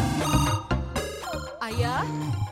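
Telephone ringing indoors in an Indian drama series home, a steady electronic ringtone with musical tones filling the clip, loud and continuous.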